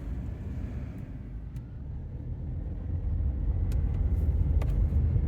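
A car cruises through Central Point with a steady low road rumble heard from inside. The rumble grows a little louder partway through, with a few faint higher noises above it and no talking.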